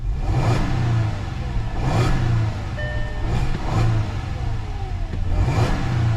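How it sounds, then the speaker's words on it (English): A boosted 2011 car with under 300 horsepower revs repeatedly, its exhaust growling in rhythmic blips of rising and falling engine note, loud and close with no talking. "It has a very nice growl to it."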